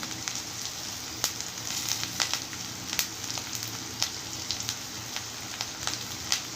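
Steady sizzling and crackling of spices frying in hot oil over a low flame, with frequent sharp pops and spits scattered throughout, close by and fairly loud.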